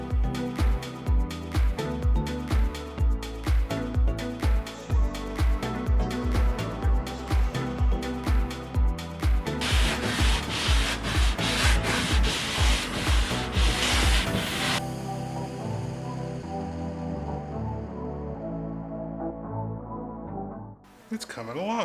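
Sandpaper scrubs back and forth across a live edge wood desk in steady, rhythmic close-up strokes, then gives way to a continuous smoother rubbing that fades near the end.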